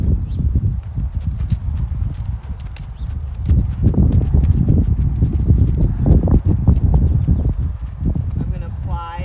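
A green Rocky Mountain horse steps sideways in a leg yield, its hooves giving soft, irregular thuds close by against steady wind rumble, with a brief whinny-like call near the end.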